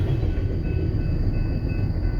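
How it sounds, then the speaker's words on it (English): Train passing close by, its end cars going past with a steady, loud rumble and rattle of rail wagons, with no voices. "there's the end of the train."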